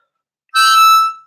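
A harmonica sounds one short sustained blown note, bright and close, entering after a brief silence and fading out, with no voices.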